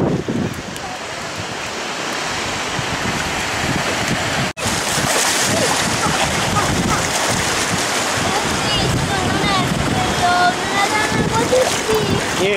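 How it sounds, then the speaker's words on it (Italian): Sea surge waves washing onto a beach: a steady, loud rush of surf and churning water with wind buffeting the microphone, while people talk over it. "Ecco la mareggiata"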